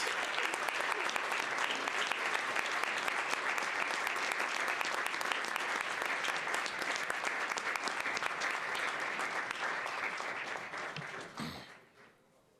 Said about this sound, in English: please join me in standing and giving a round of applause to these citizens.